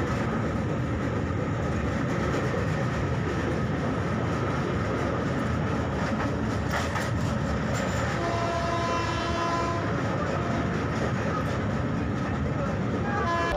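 A passenger train rumbles across the Naini rail bridge near Prayagraj, a steady broadband roar with rolling wheel noise and faint tonal squeals toward the end, heard close by from on board.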